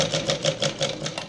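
Sewing machine running steadily while double stitching a petticoat, a close, even mechanical chatter with regular rhythmic pulses and no voices.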